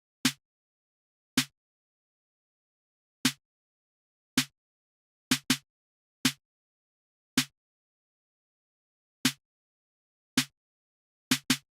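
Sparse, crisp snare and clap hits in a minimal trap beat, sounding alone and dry with irregular spacing, about ten sharp strikes, some landing in quick doubled pairs.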